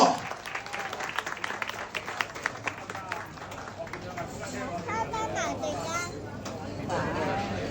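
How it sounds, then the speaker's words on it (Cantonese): A banquet crowd applauds after an incense-offering ceremony at a Hong Kong sports association's festival dinner, with crisp clapping at first that thins into general chatter and murmur. "俾掌聲阿石哥"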